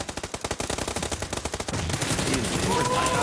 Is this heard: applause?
no